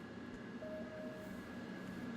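A train rolls along in the Rail Route video game, a faint steady rumble with a thin constant whine and a brief higher tone, quiet and unbroken, with no voices.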